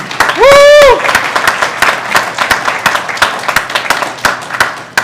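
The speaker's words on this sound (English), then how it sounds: "Can we have one round of applause for her, please?" Graduation ceremony audience applauds in a loud, dense burst of clapping that continues for several seconds, opening with a short shrill whistle-like cry over the claps.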